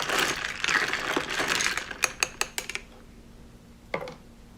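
A spoon stirs papaya cantaloupe lemonade with a steady liquid swishing, then strikes the container in a quick run of bright clinks. One last clink follows after a short pause.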